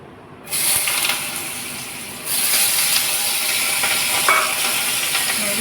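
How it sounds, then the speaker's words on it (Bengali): Bitter gourd, potato and onion frying in a pan give a steady, fairly loud crackling sizzle that steps up in intensity about two seconds in, with occasional clinks of stirring, no voices. "আজকে উচ্ছে আলু পেঁয়াজ দিয়ে ভাজা করব।"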